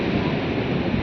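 Sea waves break at the shore near Uncha Kotda while strong wind buffets the microphone, making a loud, constant rushing wash with no voices.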